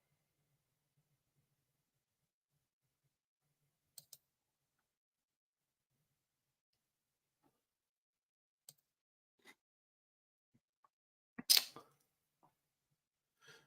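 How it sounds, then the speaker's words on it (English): Mouse clicks while switching between browser tabs: a handful of sharp, isolated clicks spaced irregularly across a quiet stretch, with a slightly louder cluster near the end and no talking. "I was clicking on the wrong tab"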